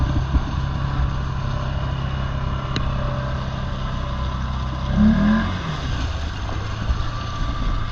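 Can-Am 450 XMR off-road engine drones steadily at moderate distance, rising in a brief rev burst midway before settling back into a constant low hum.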